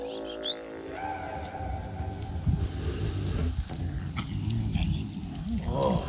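A big wild cat growls in a series of deep, rough rumbles close by, with the growls swelling and fading over several seconds amid some background noise.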